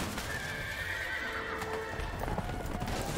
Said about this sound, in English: The horses are escaping